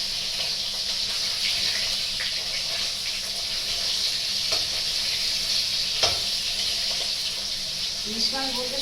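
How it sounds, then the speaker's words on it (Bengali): Hilsa fish fries in a pan of oil with a continuous, even sizzle close by, broken by occasional light clatters and a brief knock near the end. "মাছটা ভাজা মনে হয়ে গেছে অলরেডি"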